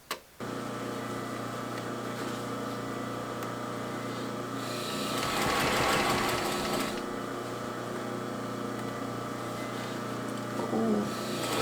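A sewing machine runs steadily with a constant mechanical whirr and hum, swelling louder for a couple of seconds of faster stitching midway, close by with no talk.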